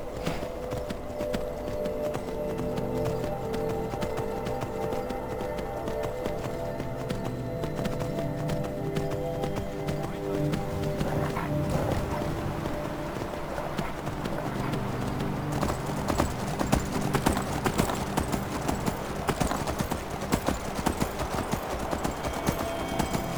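Horse hooves galloping in Skyrim (The Elder Scrolls V), a steady, fast clip-clop rhythm that runs through the whole stretch over layered in-game music and ambience, growing busier and louder in the second half.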